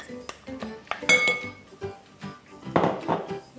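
A spoon clinks and scrapes against a bowl while butter and sugar are mixed for a blackberry cake, irregular close taps and scrapes with a few brighter clinks.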